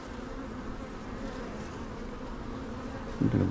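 Honey bees buzz around an open hive frame in a continuous low drone, close and steady with no voices, and a brief louder buzz swells as one bee passes near the end.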